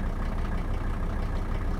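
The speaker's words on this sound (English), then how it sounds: "let's let the engine warm up and we will see if we've got boost" Mercedes 300D diesel engine idling while it warms up, a steady low, even clatter and rumble heard close by, with no voices.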